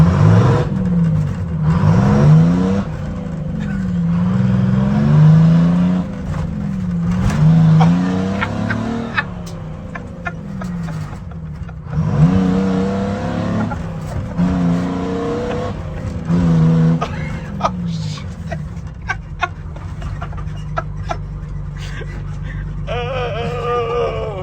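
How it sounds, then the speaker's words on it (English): An International Cabover truck, said to have very bad brakes, rumbles close by, its engine repeatedly revving up and easing off with loud, rising surges that fade into a quieter idle toward the end. "I'm going to take him for a drive in the International Cabover"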